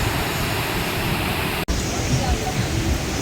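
Steady, loud rush of water at Ssezibwa Falls in Uganda, a continuous broadband roar filling the scene with a brief dropout midway and no speech over it.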